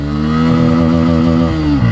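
A 2024 Bajaj Pulsar N160 motorcycle revs hard in first gear, loud and close, its engine note rising steadily before dropping briefly near the end as the rider shifts.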